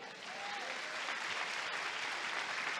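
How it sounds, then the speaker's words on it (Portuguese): A church congregation breaks into steady, sustained applause, a dense wash of many hands clapping together throughout at a fairly even level. "Quem pode aplaudir o Senhor?"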